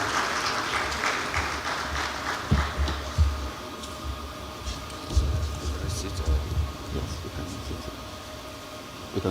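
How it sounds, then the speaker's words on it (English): Audience clapping fills a conference hall at an agricultural summit in Africa, a steady moderate wash of applause with a low rumbling hum underneath, continuing without a break. "Let's keep clapping till it gets here, I beg of you."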